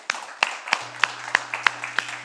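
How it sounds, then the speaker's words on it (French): Clapping from a church congregation during worship, sharp near claps falling in a steady, even rhythm roughly three per second, with a low hum sitting underneath. "On peut applaudir notre Seigneur."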